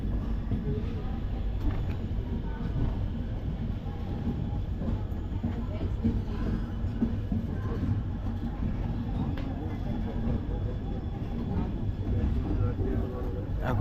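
The Sealdah–Puri Duronto Express rolls into Puri station with a continuous heavy rumble and clatter, loud and close throughout, with indistinct voices mixed into the din.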